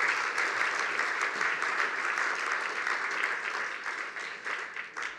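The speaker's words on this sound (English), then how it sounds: "you guys can give yourselves a round of applause for this amazing event" An event audience at the Mannatech ACON 2014 convention applauds with steady, dense clapping that holds loud and even before tapering slightly near the end.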